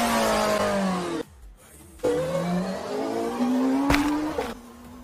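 A car engine revs hard with rising pitch, drops off briefly, then revs up again and climbs through the gears as the vehicle pulls away, loud and close.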